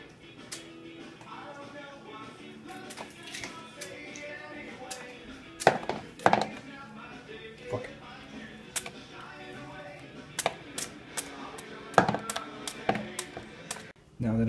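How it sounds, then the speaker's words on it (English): A knife cuts through an onion in short, uneven bursts of sharp taps, with faint rustling and handling noise between the chops. "I don't know how to prepare an onion, so I guess I'm just gonna cut it and see where it goes from there."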